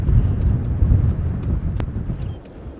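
Strong wind at an airport in Christchurch buffets the microphone with deep, uneven rumbling gusts, and faint higher chirps come through between them.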